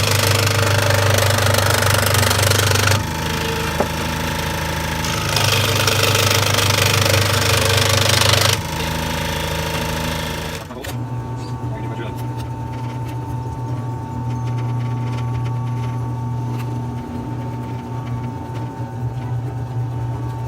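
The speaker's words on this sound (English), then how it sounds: "So I'll do the cutting first and then we'll drill some holes." Kydex sheath for a knife being cut and then drilled in a workshop: a loud, steady machine whine runs with two broader bursts of cutting noise early on, then a quieter drilling drone with fine clatter continues to the end.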